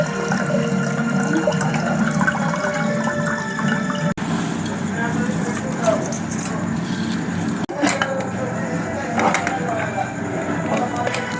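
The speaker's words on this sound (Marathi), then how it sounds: "चांगल्या पाण्यानं मस्त असं 2 पाण्यानं धुवून घ्यायचं तांदूळ." Rice being rinsed in water while making biryani, with steady close running and sloshing water that carries on throughout, broken by two brief dropouts.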